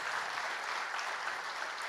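Audience applause at a campus talk, dense steady clapping from a crowd, close and even throughout with no voices over it.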